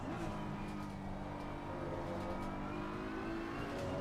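GT3 race car engine in Assetto Corsa Competizione at the Hungaroring, a steady, loud mid-pitched drone held at high revs throughout with no speech over it.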